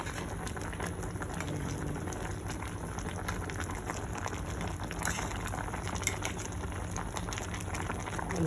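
A pot boiling on a gas stove in a salon, with a steady, dense bubbling and hissing texture that runs continuously at an even level throughout.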